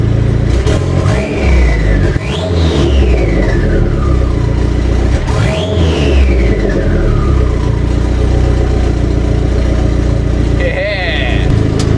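A push-button-start car engine turns over and revs twice in rising and falling sweeps, loud and close, then settles into a steady run as people talk over it.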